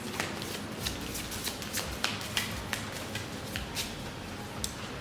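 Someone softly shuffles a Wisdom Oracle card deck, giving a steady riffling rustle with crisp card snaps scattered through it, close and quiet, with no one speaking.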